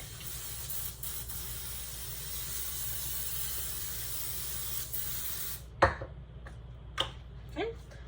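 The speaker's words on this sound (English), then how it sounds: "I'm just going to simply spray the foil with the baking spray" A steady, sustained hiss of Baker's Joy baking spray onto aluminum foil runs for several seconds, then stops, followed by a few light taps and clicks.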